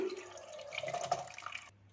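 Boiled tamarind pulp being strained in a home kitchen, liquid trickling and dripping steadily through the strainer for a couple of seconds before stopping abruptly.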